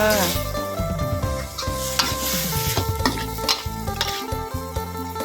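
Mushrooms and carrot stir-fried in a pan, with steady scraping and sizzling from continuous stirring over a tonal musical backing, close and moderately loud throughout.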